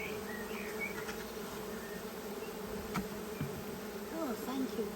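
A soft, steady drone of honey bees buzzing close by, with a few faint chirps in the background.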